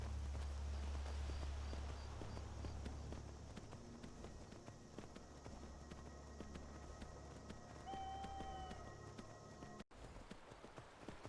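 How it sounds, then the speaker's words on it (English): Horse hooves clip-clop steadily on a long ride in the Skyrim video game, a continuous walking rhythm over a low rumbling background with no talking. "Yeah, it's another long ride back."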